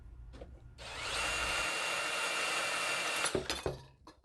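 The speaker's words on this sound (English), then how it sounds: "Once marked, drill the holes to accept the screws." A power drill bores holes for miniblind bracket screws, a close, steady whirring burst of about two and a half seconds followed by a few short clunks.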